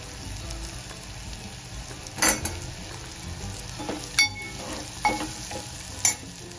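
Drumstick pods tossed into hot frying masala in a pan, with a soft continuous sizzle broken by several distinct scraping stirs of a spoon at regular intervals.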